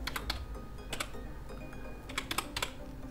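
Quick bursts of clicking keys on a computer keyboard as a word is typed into a field, with crisp close keystrokes in uneven clusters over a quiet background.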